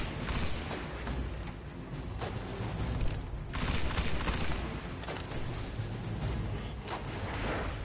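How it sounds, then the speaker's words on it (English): Rifle gunfire in the Destiny video game, dense rapid shots and bursts blending into a continuous loud barrage with layered impacts and battle noise throughout. "Let me use a super unreliable rifle."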